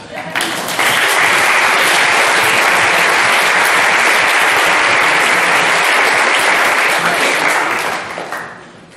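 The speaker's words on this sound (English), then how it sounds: "A big round of applause for everybody here." Applause from a large conference audience swells quickly into a dense, loud, sustained roar of clapping that holds steady for several seconds before tapering off at the end.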